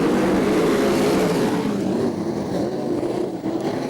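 Sprint cars roaring together at the green flag start of a Victorian Open Sprintcar title race, a loud, dense, continuous engine blare that dips slightly as the pack moves, with no talk over it.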